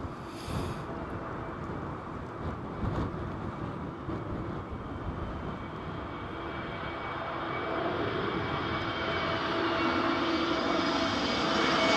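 Planes landing at Heathrow airport as Storm Isha hits the UK: a broad jet roar mixed with gusty wind that grows steadily louder as an aircraft approaches overhead.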